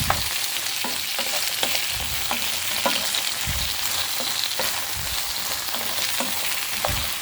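Apple slices frying in a pan for a toffee apple pavlova, with a loud, dense, continuous sizzle and crackle full of sharp spits and pops, and no voices.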